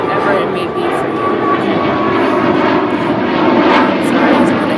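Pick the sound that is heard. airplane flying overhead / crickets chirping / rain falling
airplane flying overhead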